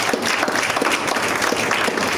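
An indoor audience at a health talk claps in sustained, dense applause, a steady wash of many hands close and loud for the whole stretch.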